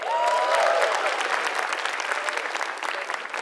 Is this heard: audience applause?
yes